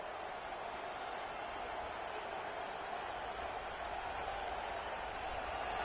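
Dense, steady stadium crowd roar from a college football video game (NCAA CFB 26, against Oklahoma), a continuous wash of noise that holds an even level throughout with no distinct voices.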